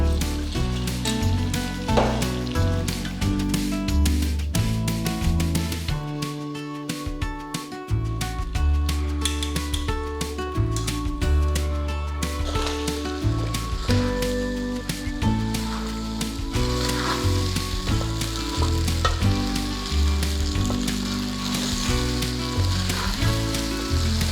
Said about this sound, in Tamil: வெங்காயம் நல்லா வதங்கிடுச்சு நம்ம வேக வச்ச கொலக்கட்டைகளை சேர்த்துக்கலாம்